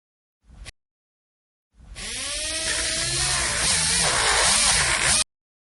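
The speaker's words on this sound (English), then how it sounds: "Run the polisher over the teeth to clean them." A dental polisher in a braces surgery video game gives a short buzz, goes quiet, then runs as a steady high-pitched whirring buzz for about three seconds with a wavering pitch before cutting off abruptly.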